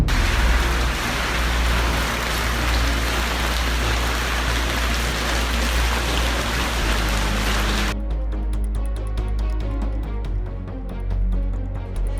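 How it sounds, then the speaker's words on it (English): Heavy rain pouring down in Santiago, Chile, during flooding storms; a dense, loud, steady hiss of falling water that drops abruptly to a quieter patter of drops partway through. "Heavy rains are causing havoc in central and southern Chile, and its capital, Santiago, has been flooded."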